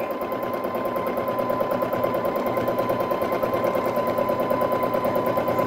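A Baby Lock Jazz II sewing machine runs steadily while free motion quilting, giving a loud, continuous rapid mechanical chatter at an even speed throughout.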